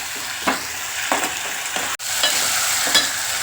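Ginger garlic paste frying in a pan while being stirred, a steady close sizzle with a few scraping stir strokes and one sharp knock against the pan.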